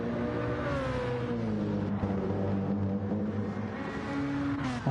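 A GT2 race car in a racing video game at the Kyoto track revs hard under power, its engine note rising and falling through the gears, loud and close, with no voices.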